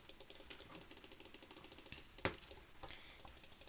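Rapid, light mouse clicks while playing a computer clicker game, in a quick, steady patter, close by, with one sharper click standing out near the middle.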